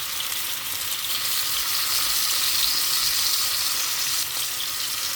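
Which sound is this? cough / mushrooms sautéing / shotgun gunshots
mushrooms sautéing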